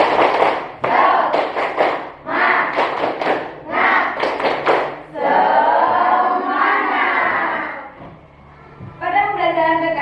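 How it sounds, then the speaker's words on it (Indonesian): A primary-school class does a rhythmic cheer-clap: several quick bursts of patterned clapping mixed with children chanting loudly, then a teacher's voice toward the end. "Agar lebih semangat lagi, kita guru coba tepuk semangat dulu ya."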